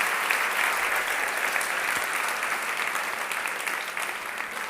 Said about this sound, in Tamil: இந்த பிள்ளைகளுக்கு நல்ல கைத்தட்டி ஒரு பாராட்டு சொல்லுவோமே